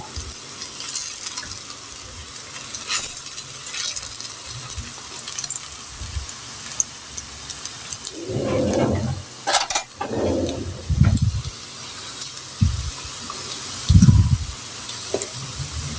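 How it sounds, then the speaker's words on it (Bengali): A bread snack fries in hot oil in a pan and gets flipped over, a soft steady sizzle broken by louder bursts of hissing and scraping as the pieces are turned. "আমি এই তেলটি দিয়ে আমি ভালো করে এপিট উপিট করে ভেজে নেব।"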